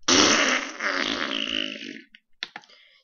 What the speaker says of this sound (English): I have to fart.